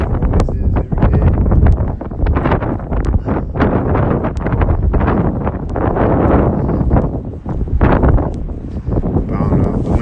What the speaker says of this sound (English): The wind's blowing this way, so it might have just be windy already when I came around the corner.